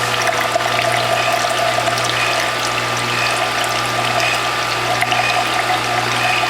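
Juice press squeezing cucumber, zucchini, dandelion and French sorrel, with a steady loud motor hum and a continuous trickle of juice flowing close by, unbroken throughout.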